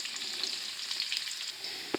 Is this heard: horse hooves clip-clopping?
no